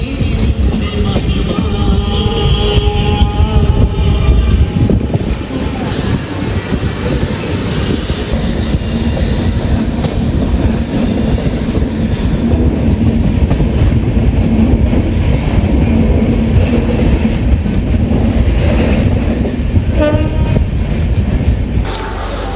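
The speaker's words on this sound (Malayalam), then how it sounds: "അങ്ങനെ മംഗലാപുരം എക്സ്പ്രസ് ഇവിടെ നിന്ന് ഡിപ്പാർട്ടായി" Steady rumble of the Mangalore Express rolling out of Kollam railway station, with wheel clatter and rail noise continuing loudly throughout, no talk.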